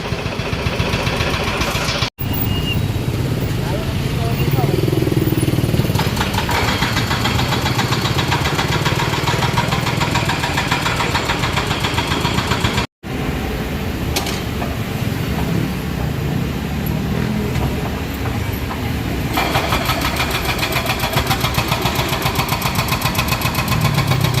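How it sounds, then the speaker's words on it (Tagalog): Several motorcycle engines idle and putter nearby in night traffic on EDSA near Guadalupe, a continuous mechanical din with a few brief cutouts and some engines revving slightly louder at times. "Yan yung ibang mga motor po dito po sa shortcut"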